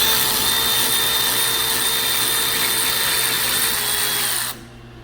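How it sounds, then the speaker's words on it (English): An electric ratchet spins on a 2017 Ram 1500 4x4 during a front wheel bearing job, a loud close whine held for several seconds before it cuts off abruptly, leaving faint room noise. "electric ratchet and triggers."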